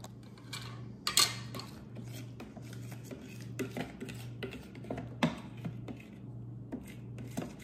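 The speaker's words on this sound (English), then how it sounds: "I need to stir that up a little bit" A spoon stirs chunky salted garden produce being preserved, giving soft scrapes and occasional clinks against the container over a steady low hum, close but fairly quiet.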